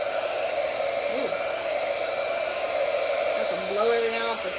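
A hair dryer blows chalk dust off a chalkboard-painting table, a steady loud whooshing roar that runs the full length with a slight swell near the end.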